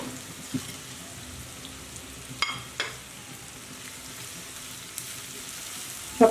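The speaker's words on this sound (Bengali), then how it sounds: "পেঁয়াজটা খুব ভালো করে ভেজে নেব" Onions fry in a pan for chicken roast with a soft, steady sizzle and a few light stirring clicks, fairly quiet and close, with no talk.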